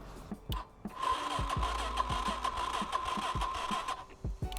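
A DTF 150 dirt bike engine runs with extra throttle applied, giving a steady buzzing drone with repeated low thumping pulses, close and fairly loud.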